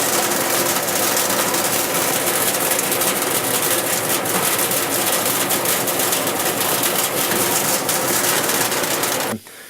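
Duct cleaning agitator rattling and clanking inside a home's air ductwork under the steady loud roar of a cleaning vacuum, with fast irregular knocks through the whole stretch before the noise cuts off abruptly.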